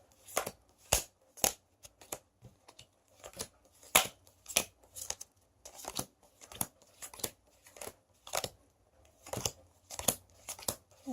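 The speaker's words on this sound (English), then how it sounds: "So I'm going to do a table shuffle." Game cards for Ascension Storm of Souls are table-shuffled nearby in a series of crisp riffling bursts and soft slaps, repeating steadily with brief pauses between, quiet and close without talk.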